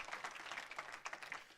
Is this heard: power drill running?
no